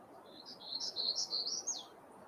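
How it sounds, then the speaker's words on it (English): A black-throated gray warbler sings one buzzy, high-pitched phrase of rapid wavering notes rising to a slurred ending, clear and fairly close over a soft background hiss. "Here's a black-throated gray warbler"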